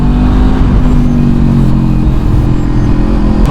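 A 2020 superbike with winglets, forged wheels and carbon fiber parts revs hard and steadily, its loud, close engine note holding a continuous rasping drone throughout with no talking.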